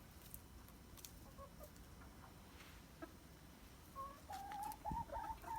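Hens cluck softly in a coop, with a few sharper calls and bursts of clucking growing louder toward the end, no talking.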